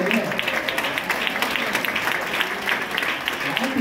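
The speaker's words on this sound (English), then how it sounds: "Y'all ought to be clapping on that." An audience at a 2023 graduation speech claps in steady, dense applause that fills the whole stretch, with a voice talking over the crowd.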